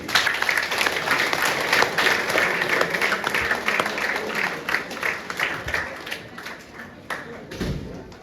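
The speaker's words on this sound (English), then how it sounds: "So a huge clap to all of you" Applause from coaches, parents and players for the kids at a professional player pathway presentation, a dense, steady burst of clapping from a sizeable crowd lasting several seconds, with a few thumps and faint voices mixed in.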